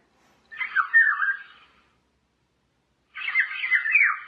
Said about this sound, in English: it makes a bird chirping sound when the alarm finally goes off